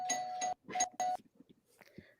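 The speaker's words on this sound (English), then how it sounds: "Somebody ringing a bell." A two-tone doorbell rings twice in quick succession, clear and fairly close, followed by faint movement and low background noise.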